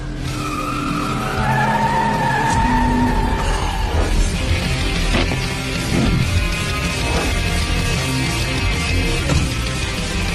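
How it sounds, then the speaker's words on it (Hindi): Racing cars roaring past with screeching tires and skidding, loud and close, engine pitch sweeping up and down over a sustained squeal and rumble lasting the whole stretch, no voices. "क्या? कार की आवाज?"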